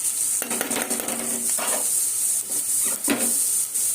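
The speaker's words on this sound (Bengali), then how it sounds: "আলুটা একটু ভাজা ভাজা হয়ে এসছে। এবার আমি পেঁয়াজটা দিয়ে দেবো।" Onions dropped into a pan of frying potatoes, a loud steady sizzle with bursts of stirring and the scrape of a utensil against the pan.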